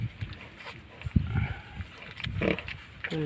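A mother sow grunts in short low bursts after giving birth, with several close grunts scattered through a few seconds of farmyard noise and a brief knock.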